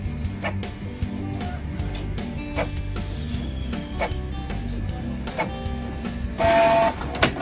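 A Canon PIXMA G3000 inkjet printer runs a print job with a fault causing poor print quality, giving a steady mechanical whir with rhythmic clicks and feed shuffles, close up.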